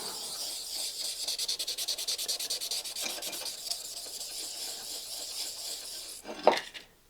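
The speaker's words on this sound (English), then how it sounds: "just going to wet sand it with 400 grit wet sanding paper" Rhythmic rubbing strokes of 400 grit sandpaper wet sanding a lamp part, quick back-and-forth scrubbing that slows and fades, ending with a brief clatter.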